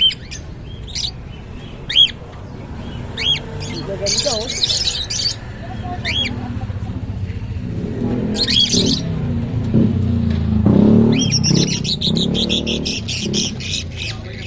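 Small birds chirp in short bursts, with a person speaking briefly, over steady background traffic and engine noise.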